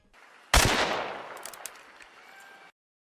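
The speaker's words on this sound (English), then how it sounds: "every gunshot in Hunt Showdown" A single heavy gunshot from the video game Hunt: Showdown cracks loud and close, then rolls into a long echoing tail with scattered reverberant rumbles that fade out after about two seconds.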